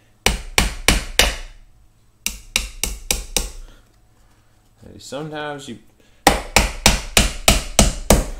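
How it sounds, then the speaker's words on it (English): A hammer bangs on boards in sharp, loud blows in quick bursts of four or five, pausing between groups, while a person speaks briefly during one gap. "You swing the hammer whatever way you like."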